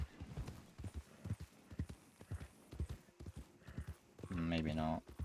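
Rhythmic clip-clop of horse hooves trots along steadily in a video game, ending with a loud horse whinny.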